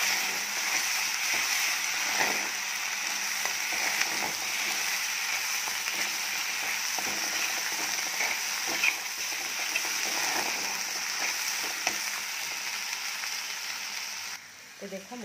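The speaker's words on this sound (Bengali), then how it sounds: "এদিকে এটা কষিয়ে যাচ্ছে, আর একটু দেখে দেখে তেল দিয়ে আসছে।" Spice masala frying in hot oil in a pan, a steady close sizzle and hiss running throughout with small crackles and stirring clinks, no voice over it.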